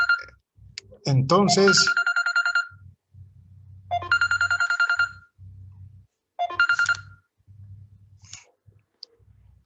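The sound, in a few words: cell phone ringing during class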